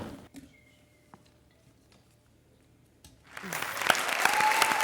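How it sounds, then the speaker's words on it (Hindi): A comedy show's studio audience bursts into loud applause after a quiet stretch with faint background sounds, the clapping swelling and continuing to the end. "जोरदार तालियां हो जाए कपिल और श्वेता के लिए।"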